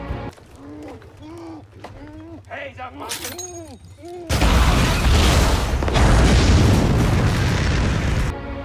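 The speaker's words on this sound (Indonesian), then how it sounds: "Sebuah ledakan yang cukup besar" A large explosion in a film, set off with grenades and dynamite on a vehicle: after a stretch of speech, a sudden loud blast hits and spreads into a dense, roaring burst of debris lasting several seconds before cutting off.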